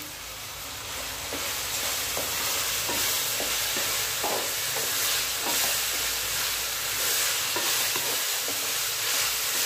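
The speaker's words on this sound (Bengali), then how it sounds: "এবারে দিলাম কেটে ধুয়ে রাখা গাজর।" Washed, chopped carrots frying in a pan for pasta, a loud, steady hiss of sizzling with soft scraping stir strokes over a low background rumble, no talking.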